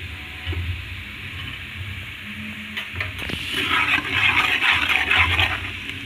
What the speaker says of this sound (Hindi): इसको भी ये एक मिनट तक भून लेते हैं